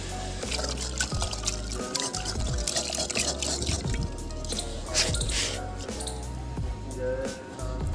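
Water is poured into a clay pot outdoors, producing continuous splashy dribbling and dripping with wet squishing sounds throughout. The pouring is close by and uneven in flow.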